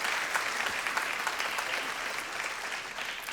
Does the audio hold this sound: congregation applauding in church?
yes